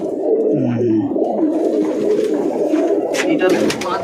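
Andhra pigeons cooing in a continuous low rumble close by, with a voice talking briefly over them.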